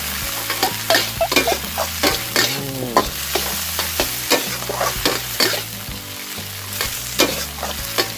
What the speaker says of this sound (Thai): สามารถผัดได้เลย